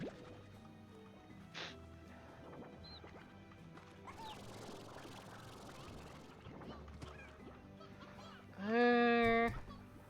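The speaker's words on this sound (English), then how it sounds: "Rooster. Now we can actually breed chickens." A rooster in the Slime Rancher game, with short fowl clucks and one loud squawking call near the end over a soft game ambience.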